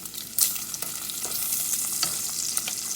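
Squash and zucchini fry in a pan with a dense, bright sizzle, broken by a few sharp spatters and soft bumps as pieces are flipped.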